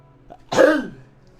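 A single sharp sneeze bursts out close by after a brief intake of breath, then quiet.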